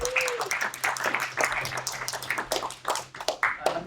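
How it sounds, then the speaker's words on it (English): Audience applause for a speaker at an energy policy talk, a fairly faint patter of many hands clapping steadily for several seconds in a hall. "I got applause."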